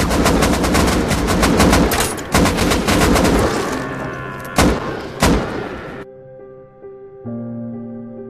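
Gunfire in the video game Rust: rapid, loud automatic bursts that pound steadily, then thin into a few separate heavy shots before the sound drops away to a quiet electronic tone.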